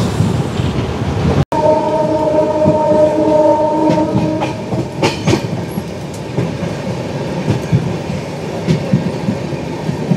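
The 13149 Kanchan Kanya Express runs loud and close on the rails in North Bengal, with a steady rolling rumble and rhythmic wheel clatter. A sharp jolt comes early, followed by a sustained tonal horn or whistle and repeated clicks over the joints.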